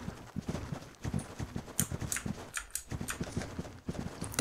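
Horse hooves in a horse riding video game, a steady clip-clop gait of regular, fairly close hoofbeats with brief scuffs, moderately loud and heard alone without talk.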